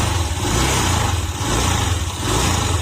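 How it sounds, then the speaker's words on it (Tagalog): A Honda Click 125 scooter engine with a worn crankshaft runs nearby, giving a steady, loud droning hum with a rough, grinding undertone and no breaks or voices. "Yung ugong na yan, sigunyal po yan."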